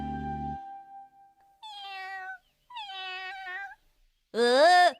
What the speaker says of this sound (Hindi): एक बिल्ली का छोटा सा बच्चा उस पेड़ पर फंसा हुआ है।